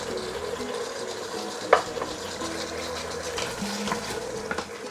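A spoon stirs beef stew with dried chili, carrot and white radish in a pot, giving a soft, steady scraping and bubbling with one sharper clink partway through, moderately close and with no talking.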